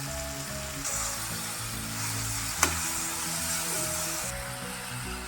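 Mint, coriander and curry leaves fry with softened tomatoes in a pan for a coriander-mint chutney, giving a steady, close sizzle with a single sharp clink partway through and no voices.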